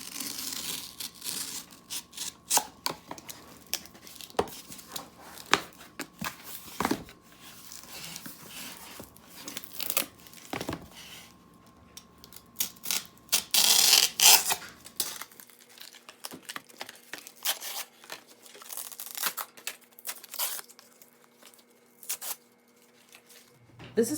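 A Dollar Tree book's cardboard cover is cut off, with scattered close tearing, snipping and crinkling sounds, sharp bursts separated by quieter handling and rustling, and no speech.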